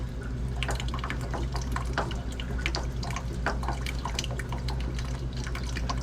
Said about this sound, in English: it should continue to just trickle out, hopefully at a slightly faster rate